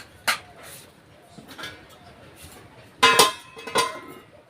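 A lid set onto a cooking pot after water is added, heard as a few short metallic clinks and knocks, the loudest a double clatter near the end.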